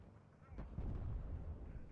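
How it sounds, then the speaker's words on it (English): Distant heavy booms of 203mm artillery and 107mm mortars on half-tracks firing in the strategy game WARNO, a faint low rumbling volley under a commentator's voice. "the 203mm plus a couple of extra 107mm mortars on half track"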